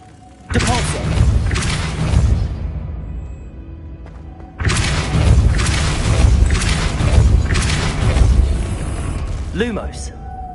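In Hogwarts Legacy, two Depulso spell casts land as loud, forceful booms, each followed by a long rumbling, crackling tail, and a short tonal chirp near the end.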